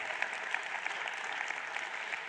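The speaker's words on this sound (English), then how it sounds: "Applause, please, for our Minister of Basic Education" An audience at an education results announcement claps for the Minister of Basic Education, a steady, fairly faint patter of many hands with no voices.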